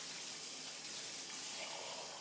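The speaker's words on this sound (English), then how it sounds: "you can just add a little bit more water" Water pouring from a tap into a pot of white bean, spinach and artichoke soup, a steady broad rushing hiss that stays even throughout, close and alone.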